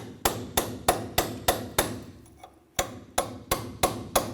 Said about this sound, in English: Just using a punch and our hammer.